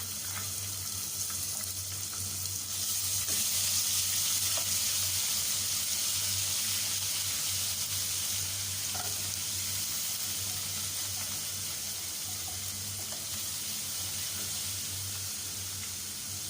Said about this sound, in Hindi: सबसे पहले हम इसमें लहसुन अदरक 1 टेबलस्पून शामिल करेंगे और लाइट पिंक कलर आने तक हम इसे फ्राई करेंगे।